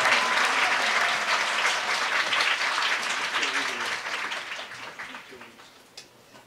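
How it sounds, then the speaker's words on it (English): Audience applause at a formal lecture event on Korean peninsula unification, a dense wash of many clapping hands that is strong at first and gradually fades out toward the end. "Please give another great round of applause for His Excellency."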